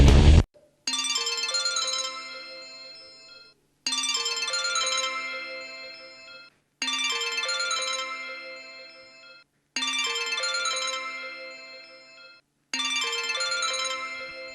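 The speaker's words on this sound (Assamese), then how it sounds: "হেৰা ফোনটো ৰিং হৈ আছে দেখোন" A mobile phone rings with a bright melodic ringtone, five identical phrases about three seconds apart, each struck sharply and fading, clear and close with no talk over it.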